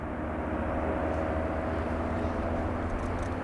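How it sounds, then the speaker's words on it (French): An ultralight aircraft flying over a Pyrenees mountain refuge, its engine a steady, moderately distant drone holding level throughout. "Au même moment, un ULM survole le refuge."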